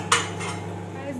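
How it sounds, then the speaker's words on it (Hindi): Dishes and cutlery clatter close by as an idli dinner is heated in a home kitchen, a sharp clink followed by lighter scraping over a low steady hum. "मम्मी डिनर गरम कर रही हैं"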